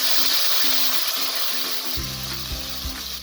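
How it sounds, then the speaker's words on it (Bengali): Onions frying in a pan on a Bengali home stove burst into loud, steady sizzling as water is added, with stirring scrapes and spoon knocks breaking through near the end. "এখন কিছু পরিমাণ জল দিব।"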